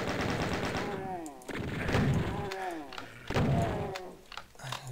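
Video game shotgun gunfire: three heavy blasts with thunking impacts, each trailing a descending tonal sweep, set against constant background game noise.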